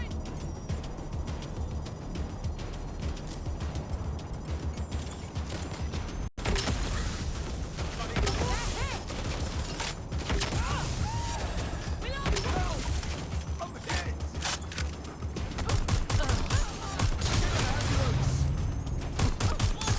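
Gunfire in the video game Watch Dogs Legion, with dense bursts of shots and crashes running under game dialogue and music throughout, growing louder and busier after a brief cut partway through.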